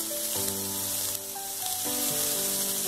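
Onions fry with a pinch of salt in a pan for Chennai-style fish curry, a steady close sizzle under sustained tonal hum, with no one talking.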